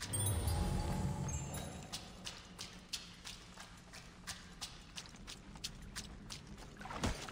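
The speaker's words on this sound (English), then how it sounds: "I'm surprised with the noise of the water he didn't notice." Continuous rushing water in Assassin's Creed Odyssey, a dense steady wash that stays fairly loud, with a heavier surge at the start and scattered short splashes or footfalls over it.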